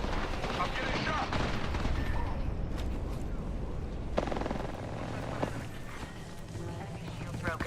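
Gunfire in a battle royale video game aimed at the player, with sharp shots and mechanical clatter over steady game noise, interrupted by a couple of louder cracks.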